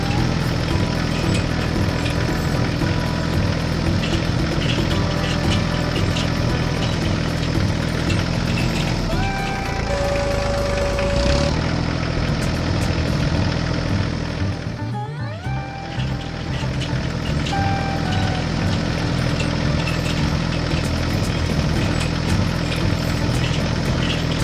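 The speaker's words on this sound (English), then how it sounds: "tractor with a precisely adjusted cultivator transformed the hard, compacted soil into looser, ready to receive the seeds" A red tractor pulling a cultivator through hard, compacted farm soil runs with a steady, loud engine drone throughout, shifting in pitch briefly midway.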